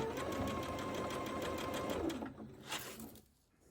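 A sewing machine runs quickly along a Japanese fabric quilt seam, a rapid even whir for about two seconds that slows and fades into a few light mechanical clicks.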